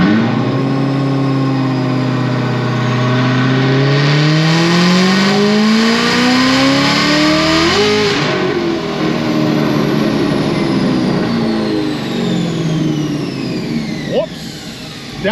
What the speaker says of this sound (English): I just made a pull